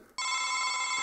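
A cartoon telephone rings with a bright electronic trill that starts abruptly after a brief quiet moment and holds loud and steady to the end.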